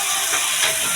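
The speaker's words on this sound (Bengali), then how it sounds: "একদম তেল কম দিয়ে কষা কষা করে মাংস করছি" Meat frying in very little oil in a home kitchen, giving a loud close steady sizzle and hiss that fills the whole second without a break.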